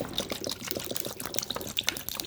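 Ice and water splash and trickle into a bowl for soaking shrimp, close by, with a busy run of clinks and pouring sounds and a few bright, sharp knocks.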